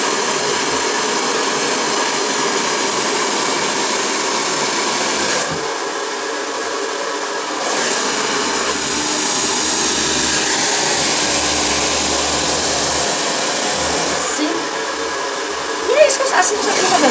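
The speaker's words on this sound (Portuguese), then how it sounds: "Prendo aqui e seco essa parte de cima." A hair dryer blows loud and close as hair is dried, a steady rushing whir that briefly dips in pitch and strength, with a person speaking over it.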